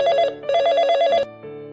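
A telephone rings loudly and close by, with two trilling electronic bell bursts followed by a softer tone, and no voices.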